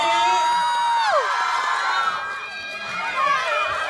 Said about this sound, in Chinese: 请大家呐喊的声音大一点点，来欢迎我们的领衔主演白宇